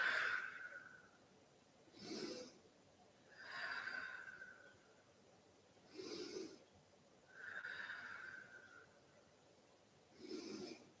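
Slow, deep exhales through the nose during a yoga pose, repeating about every two seconds at low volume, alternating with softer breaths in a quiet room.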